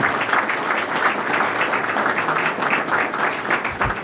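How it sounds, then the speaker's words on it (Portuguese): Sustained audience applause at a Brazilian quality seminar greets an arriving guest, a dense even clapping from a sizable crowd lasting several seconds. "Vou dar um aplauso para esse grande mestre que está aqui."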